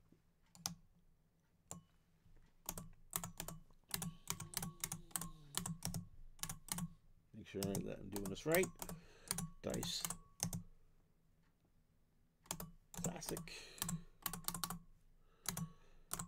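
Bursts of crisp computer keyboard typing click out a tournament name, coming in quick irregular runs with pauses between them, while someone speaks quietly in between.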